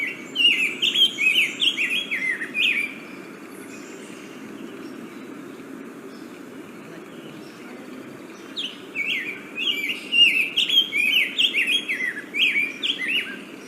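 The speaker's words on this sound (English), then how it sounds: "these birds have a very beautiful kind of whistling song" Grosbeak whistling song, sweet rambling phrases in two bursts separated by a quieter pause, fairly close and clear over a soft background hum.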